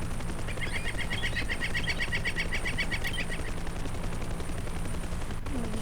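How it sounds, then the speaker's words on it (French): Helicopter flying in a war video game, a steady rotor thrum with a rapid chopping pulse in the first half, continuous and fairly close, with no talk. "ça doit être un hélico allié, sinon un hélico ennemi, c'est déjà fini."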